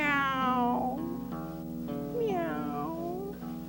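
A voice imitates a cat with drawn-out, wavering meows, several in a row, loud and close, sung in a lovesick tone within a children's story about a very fat cat.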